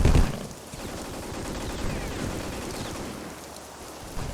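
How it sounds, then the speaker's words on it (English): Gunfire in the Vietnam War video game Vietcong, a dense crackling fusillade of distant shots forming a continuous rattle, with a louder thump at the very start. "They're shooting from down there."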